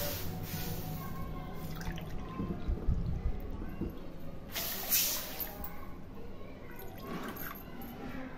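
Water poured into a pan for mango sheera, soft splashing and dripping in bursts over quiet kitchen background, with faint low murmuring.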